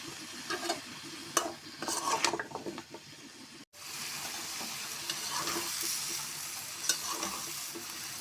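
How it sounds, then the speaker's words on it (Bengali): Hard winter vegetables stir-fried in a pan, with spatula scrapes and clinks over a steady close sizzle and a short gap partway through. "সবজিগুলি শক্ত, এটা আমি আগে কষাই নিই"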